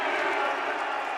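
A basketball arena crowd roars in a brief, steady wash of cheering noise during a Wyoming versus Boise State college game, dense and sustained throughout.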